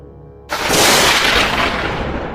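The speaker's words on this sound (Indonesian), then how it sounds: "Sebuah suara petir bergemuruh di luar jendela, seolah menggelegar tepat di atas langit kampus" Thunder booms suddenly over a campus, then rolls on as a loud, broad rumble that fades only slightly over the next two seconds.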